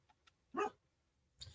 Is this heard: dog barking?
yes